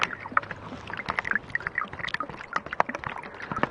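Water poured into a bag for a flameless food heater, a close, splashy gurgling pour with uneven sloshing bursts throughout.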